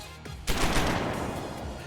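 Gunfire from a gun, heard as one sharp loud shot followed by a dense, sustained rattle of rapid shots that continues to the end. A faint click comes just before the first shot.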